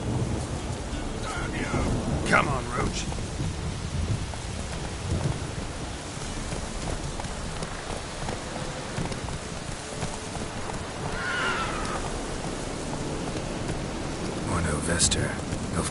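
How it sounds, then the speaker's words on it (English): Thunderstorm with steady rain in The Witcher 3, rumbling thunder rolling under a constant wash of rainfall, with a voice speaking briefly over it. "The storm, damn it."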